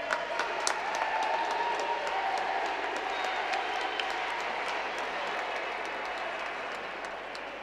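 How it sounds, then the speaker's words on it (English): Family members cheer and applaud the Gibraltar captain at the Netball Europe U17 Championships 2016, a steady wash of crowd clapping and cheers with scattered sharp claps, moderately loud and sustained throughout. "Family cheering her on."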